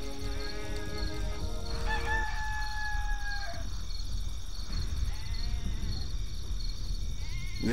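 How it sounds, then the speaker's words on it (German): A rooster in the video game Black & White 2 crows in a long drawn-out cry over busy game ambience, with a constant tonal hum and background noise throughout. "Dieser Hahn weckt mich jeden Tag auf"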